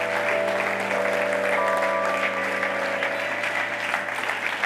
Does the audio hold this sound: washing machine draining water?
no